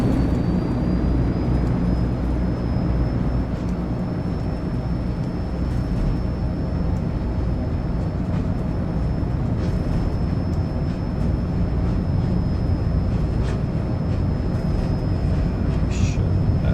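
Airliner jet engines roar steadily and loudly during a takeoff roll in the video game Flight Simulator 2024, a continuous broadband rumble with a sustained high whine, briefly under a spoken voice.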